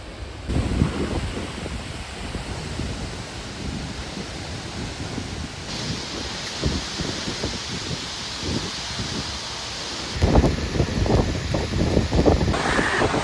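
Massive waterfall pouring a huge volume of water, heard as a steady broadband roar close by, with gusty wind buffeting the microphone and a louder surge near the end.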